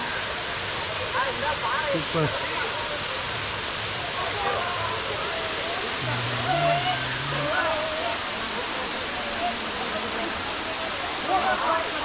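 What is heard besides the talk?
waterfall pouring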